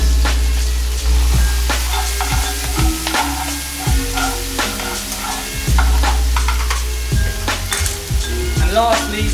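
Rocket leaves being stirred and tossed with tongs in a hot frying pan alongside tuna and olive oil, a steady loud sizzle with scraping stirs and light clinks, voices talking over it.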